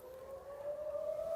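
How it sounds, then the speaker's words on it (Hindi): Air raid sirens sound in Israel during a Yemeni missile attack, a faint, distant, steady wailing tone that slowly rises in pitch with no voices. "सायरन बजते हुए सुनाई दिए"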